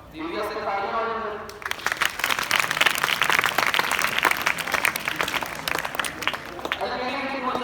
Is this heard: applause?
yes